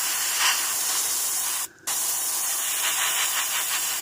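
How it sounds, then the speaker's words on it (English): An airbrush at lowered air pressure sprays paint onto a scale model tank, producing a steady close hiss that cuts out briefly partway through and then resumes. "turn the air pressure down, and you can just spray it in,"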